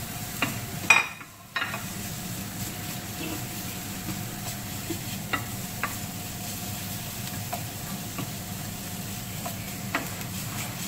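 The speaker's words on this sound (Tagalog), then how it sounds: "So ngayon, ilalagay natin yung garlic." Steady sizzle of garlic frying in a pan as taco filling is prepared, with a brief clatter and dip at the start as the garlic goes in, then an even, close hiss that continues without talk.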